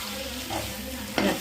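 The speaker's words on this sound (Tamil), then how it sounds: "நல்லா மிக்ஸ் பண்ணி விட்டுக்கலாம்." A spoon stirs and mixes a sizzling chicken dish in a pan after coriander is added, with soft scraping, a low frying hiss and one sharper scrape near the end.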